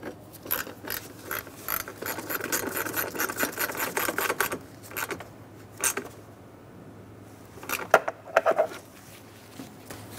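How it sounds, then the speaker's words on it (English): A ratchet wrench clicks in quick bursts while snugging down a bolt on a 2003-2007 Honda Accord, the pawl ratcheting steadily for several seconds, pausing, then returning in a few short, louder strokes. "Snug the bolt down."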